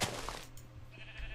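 A Minecraft sheep gives a short bleat over a low steady hum and game ambience, with a brief higher tone near the end and no one talking.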